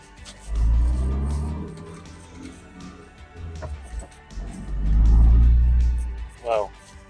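A 2011 Morgan 4/4 Sport with a 1.6 Sigma engine pulls away. Its deep, close engine rumble swells twice, then fades, and a short high chirp follows near the end.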